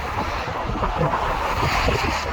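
Loud, steady wind buffeting the microphone beside a busy road near The Wash, South Holland, England, a continuous rumbling roar with no voices.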